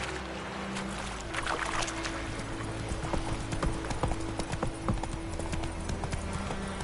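Horse hooves clip-clopping at a gallop in The Witcher video game, a fast, continuous rhythm of loud, close hoofbeats over a steady ambient bed.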